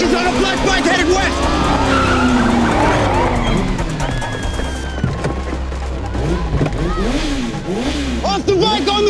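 A motorcycle chase in a police TV drama, with tires screeching and skidding in long sweeping squeals, engines roaring and a siren wailing in rising and falling sweeps near the end, under loud shouting.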